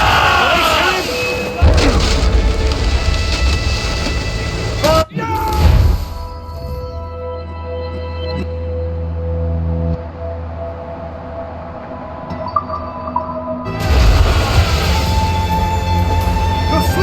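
Ship cannons fire in a naval battle in Assassin's Creed Rogue, a loud booming blast and crash near the five-second mark over rumbling sea and crew shouts, then a low rolling aftermath before the noise swells again.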